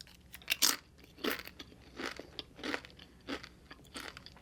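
Crunchy fajita vegetables in a Qdoba Impossible burrito being chewed up close, with repeated loud crisp crunching bites in an irregular rhythm and no talking.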